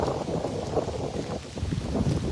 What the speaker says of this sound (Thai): ลมก็ยังแรงอยู่นะ ลมยังแรง